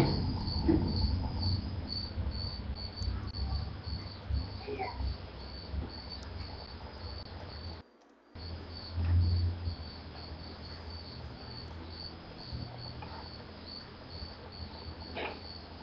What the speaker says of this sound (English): We can listen to a lot of crickets